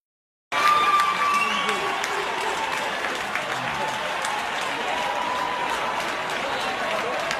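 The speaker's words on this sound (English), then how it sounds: "They're cheering." Poll workers clap and cheer inside an election counting room, a sustained crowd noise of applause and voices rising after a brief silence and continuing steadily throughout.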